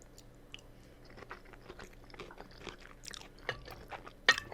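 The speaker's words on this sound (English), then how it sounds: "There's a low crunch." Close, quiet bites and chewing of cooked vegetables from a one-pot fall meal in a 12-inch paella pan, a soft series of low crunches with a few sharper snaps, heard alone.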